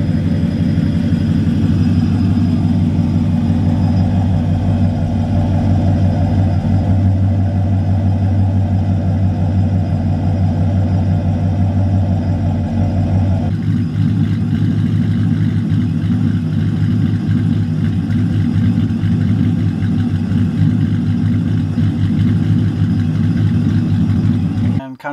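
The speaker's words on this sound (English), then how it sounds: "to try to get the stock camshaft in a Hemi to have a lope to it" A stock-camshaft Hemi V8 idles with a ghost-cam lope tune, a steady loud low rumble running throughout with a slight shift in tone about halfway through, and a voice talks over it.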